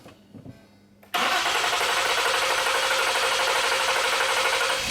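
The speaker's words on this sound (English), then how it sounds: "So now I'm gonna start the engine." A Lincoln MKT with a lean fuel condition on both banks cranks briefly and fires, then settles into a steady, loud idle close to the microphone, with no talking over it.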